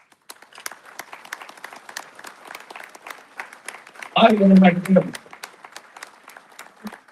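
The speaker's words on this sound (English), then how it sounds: "Could you guys please give them a round of applause?" Scattered audience clapping at a Lincoln 250 political gala, light and sparse throughout, while a voice speaks loudly over it for about a second midway.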